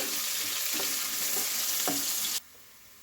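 Chopped onions for chicken pulao frying in oil in a pan, a dense continuous sizzle with a few soft spatula scrapes, close and steady, then stopping suddenly near the end.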